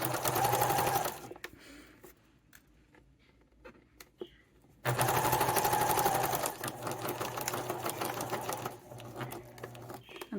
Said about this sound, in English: here I'm going to start at that end of that seam, back stitch, and go forward